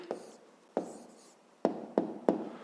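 Pen strokes on paper while an answer to a fifth-grade maths exercise is written down: five short scratchy bursts, close and fairly quiet, spaced unevenly with soft pauses between.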